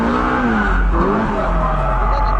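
Car drifting and sliding out of control, with a steady engine drone and sweeping tire tones bending up and down throughout, loud and continuous, with faint speech underneath.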